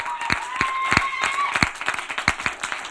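Audience applause at a talk by a radio jockey, scattered claps ringing out across a crowded hall, fairly close and steady, with a voice speaking over it.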